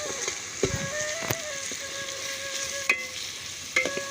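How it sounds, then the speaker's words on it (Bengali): Onion and garlic paste frying in oil in a cooking pot, a soft continuous sizzle heard close with a few sharp scrapes and clinks of a spoon stirring, no voices. "রসুন বাটাটা দিয়ে ততক্ষণ ভাজতে থাকবো যতক্ষণ এর কাঁচা গন্ধটা চলে যায়।"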